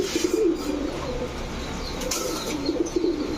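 Female silver pankhi pigeon cooing softly in a couple of short repeated bursts over a noisy background hum, with a faint flutter of wings, no voices.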